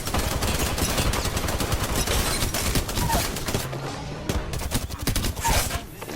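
Sustained rapid automatic fire from an extended-mag Spitfire light machine gun in Apex Legends, a dense, loud, continuous burst of shots with brief gaps, with no talk.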